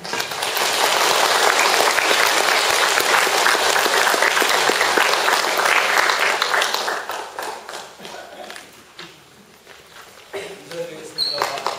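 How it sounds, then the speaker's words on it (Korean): Audience applause welcoming a speaker at a Won Buddhist training gathering, loud dense clapping for about seven seconds that fades into scattered claps, shuffling and light talk. "박수로 모시겠습니다"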